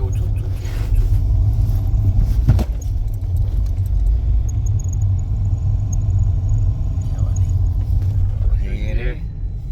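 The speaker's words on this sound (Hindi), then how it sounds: "ये आवाज़ जो आ रही है ना बहुत इरिटेट कर रही है। तो ये आ रही है इसके AC ब्लोअर में से" A VW Polo 1.2 with a rattling AC blower, heard from inside the moving car: a steady low road rumble fills the cabin, with faint, irregular rattles and light clinks over it.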